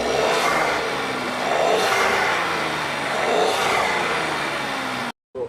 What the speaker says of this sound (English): This is a 3-cylinder engine, and as you guys can see, the car's idling quite normally.